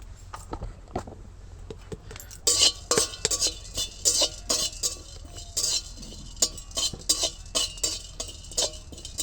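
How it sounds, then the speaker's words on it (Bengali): Cumin, whole garam masala and two peppercorns dry-roasting in a pan, heard as a run of small clinks and scraping stirs of a utensil against the metal, irregular and close, with no talk. "এবার এখানে আমি নিয়ে নিয়েছি জিরে আর গোটা গরম মশলা আর 2টো গোলমরিচ, একসাথে একটু ভেজে নেব।"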